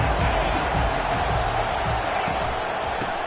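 A college football stadium crowd roars on a big third down, a dense, steady wash of cheering and noise that fills the whole stretch.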